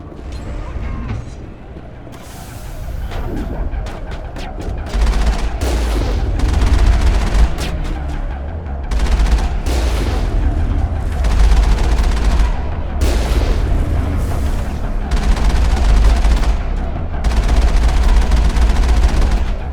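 Gunfire rattles through a Mass Effect firefight, loud bursts of automatic shots and sharp cracks repeating in waves with heavy low booms, close and dense, a brief voice heard early on.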